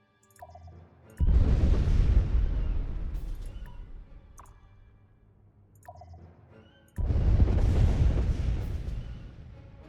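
Two heavy booming blasts from a bombing run in Master of Orion: Revenge of Antares, each a loud explosion with a long rumbling decay, separated by a quieter stretch of faint clicks.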